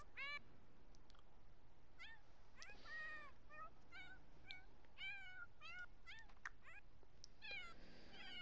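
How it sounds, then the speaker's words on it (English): Cats fight in a kitchen in The Sims 4, with a run of rising and falling meows and yowls that repeat quickly and irregularly over a soft steady background, fairly faint and with no talk. "Cat fight in the kitchen."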